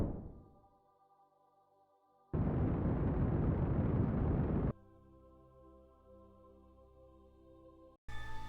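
Rocket parts explode like a fireworks display in the video game Kerbal Space Program: a loud, roaring broadband burst of about two seconds, then a lingering tonal hum.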